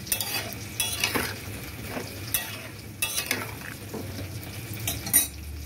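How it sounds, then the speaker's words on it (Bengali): Loti (taro stolons) stirred with salt and water in a pan, a close, busy clatter of utensil scraping and knocking over a soft wet sizzle, with recurring louder strokes. "নুন দিয়ে ভালো করে এটাকে লতি এবং জলের সাথে ভালো করে মিশিয়ে দেবো।"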